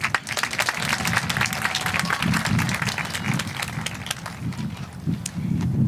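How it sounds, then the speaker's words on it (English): A high school graduation audience at Azusa Pacific applauds in a dense, sustained wash of clapping that fills the whole stretch without a break. "I want to hear you all give yourselves a little round of applause."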